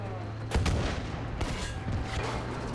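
Gunfire in the video game Battlefield V: a few sharp shots and booming reports over a steady low battlefield rumble, with a player's voice briefly in between.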